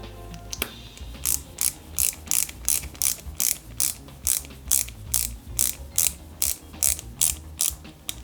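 Silver AP screws being driven into the rear of a Ghostbusters Ecto-1 model kit, a regular series of about fourteen crisp ratcheting clicks close up, evenly spaced, with no talking.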